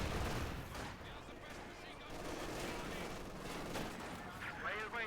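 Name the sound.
anti-tank gun fire in the video game Company of Heroes 2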